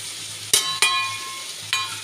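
Ground spices drop into karela sabzi in a hot pan, giving three sharp sizzling bursts, each fading into a soft steady fry.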